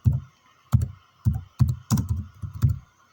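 A computer keyboard is struck in a slow series of about seven firm, close keystrokes, each a distinct thunk separated by short pauses, with no talking.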